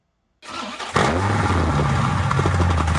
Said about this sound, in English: let me quickly show you guys the startup